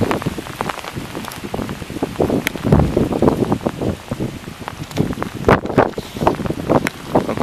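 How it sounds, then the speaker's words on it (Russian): Heavy hail pelting down during an outdoor levee planting job, a dense, irregular rattle of stones striking surfaces near the microphone, with bursts of wind buffeting throughout. "Это даже не дождь, а только град идет. Сыпет как дождем."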